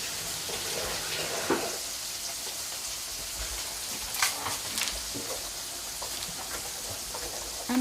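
Parsley rinsed under a running kitchen tap, a steady close splashing hiss of water with occasional louder splatters and knocks as the leaves are handled in the sink.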